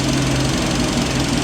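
A hot rod's engine idles steadily while warming up after its idle was raised a quarter turn, a loud, continuous, close-up mechanical drone with no talking over it.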